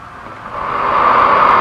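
A compressible fluid rushing through a valve and piping into a small flow channel, picked up at the channel entrance, gives a broadband hiss that swells louder and holds steady, with no talk.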